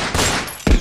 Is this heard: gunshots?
yes